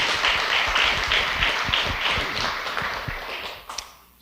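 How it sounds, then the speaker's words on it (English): A welcoming round of applause at a regular council meeting greets a visiting chief and his council, crisp claps close and steady before tapering off near the end. "could you please give a welcoming round of applause to Chief Wise and his council"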